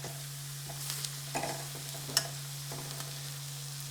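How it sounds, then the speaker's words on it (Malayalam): Spice powders with turmeric being dry roasted and stirred for an Idukki-style pork roast, faint scraping strokes and light taps against the pan over a low steady hum, close and quiet. "ഇത് നമുക്കിനി ഒന്ന് നല്ല ഉണക്ക് ഇളക്കി ഇതിൻ്റെ പച്ചമണമൊക്കെ മാറുന്നിടം വരെ നല്ല ഉണക്ക് മിക്സ് ചെയ്യാം"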